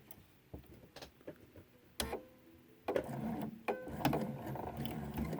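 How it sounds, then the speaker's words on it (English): A sewing machine stitches binding onto a quilt, sewing off a corner after a pivot: scattered faint clicks and taps at first, then a steadier close mechanical whir with small ticking bursts in a quiet room. "I'm going to sew right off of the corner here"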